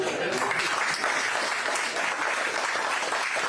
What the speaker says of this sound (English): about a round of applause for our firefighters?